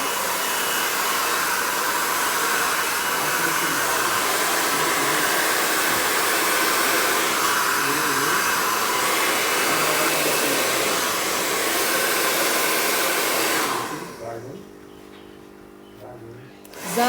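A hair dryer roars steadily and close up for about fourteen seconds while a blunt bob haircut is blow-dried, then cuts out, leaving a quiet tail.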